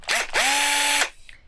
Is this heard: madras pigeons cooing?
no